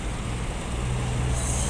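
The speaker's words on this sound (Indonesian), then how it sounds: "ini ada Rosalia Indah double decker ya, jet bus 3 meninggalkan area 234" A Rosalia Indah Jetbus 3 double-decker bus pulls away from a toll-road rest area, its low diesel rumble and broad road roar steady and fairly close, with no talk.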